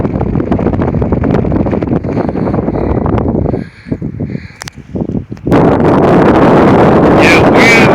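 Strong 15 to 25 mph wind at a drought-stricken lake with exposed mud, roaring heavily against the microphone, dropping briefly to a lull with someone talking, then gusting back hard.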